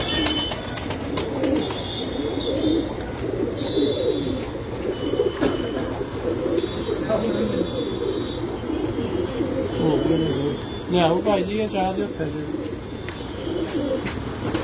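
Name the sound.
pigeon cooing on rooftop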